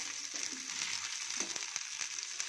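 Sankara fish sizzles and fries in oil on a dosa tawa, a close, steady crackling hiss with small pops and a few scraping clicks.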